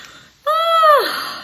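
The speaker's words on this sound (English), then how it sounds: "From the house, I hear yawns." A single audible yawn is heard in a quiet morning setting at home. It starts suddenly as a drawn-out tonal breath held for about half a second, then falls away into a breathy exhale.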